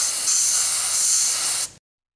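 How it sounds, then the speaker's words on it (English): A short blast of compressed air clears a freshly tapped hole, making a steady, close hiss that lasts under two seconds and then cuts off abruptly into silence. "Blow it out with a little bit of air."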